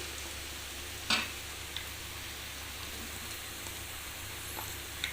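Onions that have turned reddish-brown sauté with curry leaf powder in a pan, a steady soft frying hiss throughout with a few faint clicks of a utensil against the pan.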